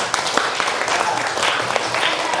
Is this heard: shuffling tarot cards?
no